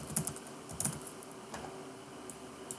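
Typing a file name on a computer keyboard, a few quick clusters of clicky keystrokes early on, then sparser taps, close and fairly quiet with no voices.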